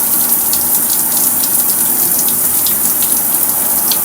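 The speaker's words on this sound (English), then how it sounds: "Under the water we go." Water gushing hard over a Columbia rain jacket in a simulated downpour test, a loud continuous close-up splashing rush with no talk.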